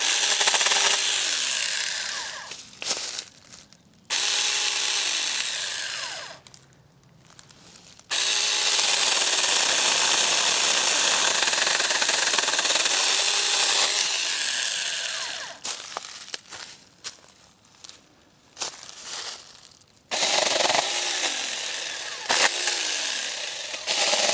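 A small IMOUMLIVE mini 6-inch battery chainsaw cuts through branches while pruning on an off-grid homestead, whining loudly in several bursts of a few seconds each, with short quiet pauses between cuts.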